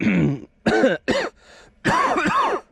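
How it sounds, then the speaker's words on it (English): Several harsh coughs in quick bursts, close and loud, with short pauses between them and a final longer rasping fit. "Coughing a lot."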